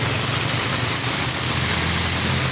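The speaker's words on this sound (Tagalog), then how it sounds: "dahil sa sobrang lakas ng buhos ng ulan" Dense, heavy typhoon rain pours down in a constant roaring wash, loud and unbroken from start to finish.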